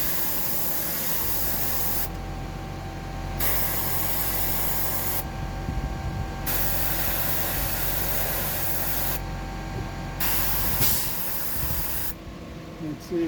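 Paint sprays onto a fishing lure in repeated short hissing bursts, about four of them, each a second or so long, with quiet gaps between. The bursts sound close and crisp over a low background hum.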